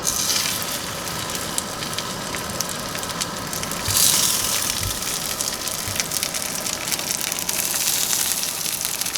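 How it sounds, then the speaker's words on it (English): Hemp seed encrusted ahi tuna steaks sear in a hot pan, giving a steady, loud broadband sizzle that holds for the whole stretch and swells briefly partway through, with no talking over it. "we're just going to sear it on both sides"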